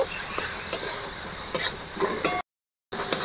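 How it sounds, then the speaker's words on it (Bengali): Spices with sugar, salt and chilli powder frying in a pan for chilli garlic potatoes, a steady close sizzle broken by a few sharp scraping stirs, then a brief gap before the hiss resumes. "দেখুন মশলা বেশ সুন্দরভাবে ভাজা হয়ে গিয়েছে।"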